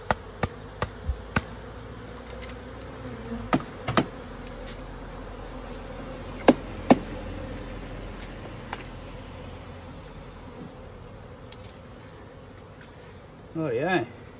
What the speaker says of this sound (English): Some workers and nurse bees.